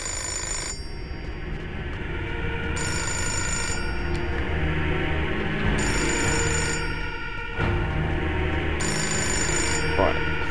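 A telephone rings in the video game Fahrenheit: a repeating electronic bell in regular bursts with short gaps between, steady and fairly loud, while someone talks over it.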